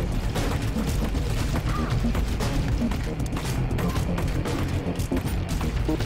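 Dense, noisy combat sound in Half-Life: Alyx, with gunshots and crashing impacts packed into a loud, continuous clamor with no pauses.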